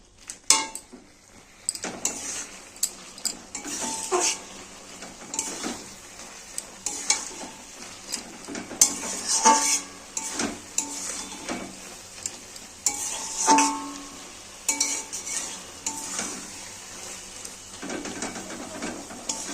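Spinach, potato and lentil dumplings stirred in a pan, a spoon scraping and clinking against the metal in repeated strokes over a soft simmering sizzle, close and moderately loud throughout.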